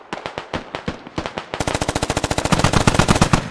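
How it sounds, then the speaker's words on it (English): A DShK heavy machine gun in the video game Squad fires long bursts of loud, close, rapid heavy rounds that speed into a dense, continuous hammering stream with no voices. "Who's on the Dishka?"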